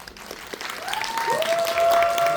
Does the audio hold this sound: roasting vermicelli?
no